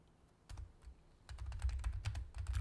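Keys clack on a computer keyboard, a few isolated taps and then a quick run of close, fairly quiet typing strokes with the Enter key pressed.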